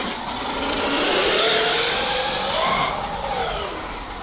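An electric RC car running on LiPo batteries accelerates hard, giving a loud, continuous high-pitched motor whine that rises and falls in pitch as it speeds past.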